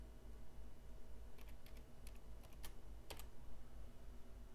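Faint clicks of a few keys tapped on a computer keyboard in short clusters over steady low background hum.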